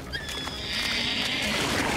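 A cartoon horse whinnies with a high, shaky cry over a dense roar of background noise near a fire, fairly close and loud.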